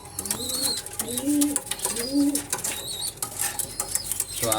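A restless young racing pigeon, kept unpaired, flutters and coos close by, with soft repeated cooing calls and wing rustles over a busy background of faint voices.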